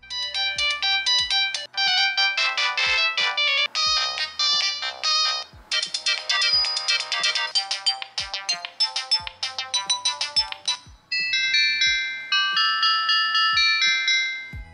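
A Nexian FlexiPhone CDMA phone, an old model kept sealed and new, plays a bright polyphonic ringtone: a bouncy electronic melody with a steady beat that runs continuously and loudly from start to finish.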